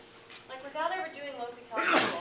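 A single sharp sneeze bursts out near the end, following a stretch of continuous speech from a nearby voice.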